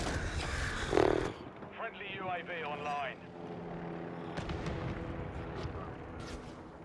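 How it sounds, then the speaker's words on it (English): Chopper gunner helicopter in Call of Duty MWIII, team deathmatch on Crown Raceway: a loud low rotor-and-gunfire rumble with a sharp burst near the start, a warbling electronic tone, then sustained engine drone and distant shots, with a voice briefly over it. "Chopper gunner incoming."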